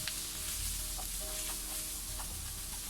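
Onions sautéing with salt and turmeric in a hot pan for a mushroom masala give a steady close sizzle, broken by a few soft scraping stirs and no voices.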